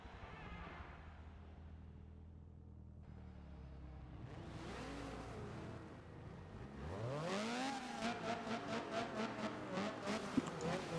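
A Honda CRX with VTEC in the racing game Forza 7 revs up, building from a low idle hum to a rising, high-pitched rasping engine note with rapid throttle blips near the end.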